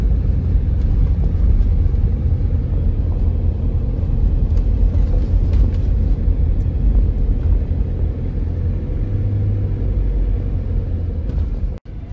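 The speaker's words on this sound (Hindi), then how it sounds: "So guys as usual lots of traffics Itanagar में।" Busy road traffic in Itanagar on rain-damaged roads: a continuous loud rumble of engines and passing vehicles, steady throughout and ending abruptly.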